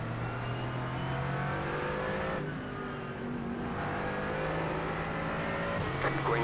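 Engines of Mercedes GT4 race cars in iRacing rev and pull away together at the start at Barber, with a loud, layered drone of several cars climbing in pitch through gear changes.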